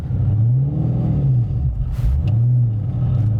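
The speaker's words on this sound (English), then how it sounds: "you can hear a little bit of noise when you put your foot on the clutch" A Nissan Skyline GT-R engine hums steadily nearby while a low rumble rises and falls twice as the clutch pedal is pressed, with a faint mechanical click midway; no twin-plate rattle.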